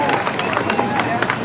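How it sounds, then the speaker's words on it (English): Audience clapping at a live Muppet Mobile Lab show at Epcot, a dense, steady patter of many hands with crowd murmur mixed in. "Let's have a big round of applause for them."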